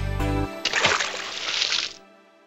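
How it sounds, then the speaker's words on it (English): A goat falling into a deep well: a short bright splash with sloshing water follows a brief thud, then fades quickly into quiet. "he lost his balance and fell in the well"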